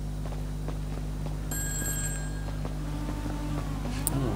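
A phone ringing inside Grand Theft Auto V, a short electronic trill rising above steady engine-like game ambience, heard once partway through without speech.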